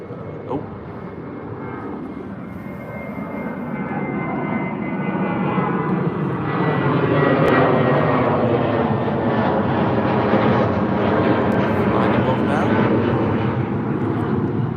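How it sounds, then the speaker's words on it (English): A British Airways Airbus A320 jet takes off from Heathrow bound for Barcelona, a broad steady engine roar that swells and holds loud throughout, with a voice talking over it. "up first we have another A320 with British Airways off to Barcelona"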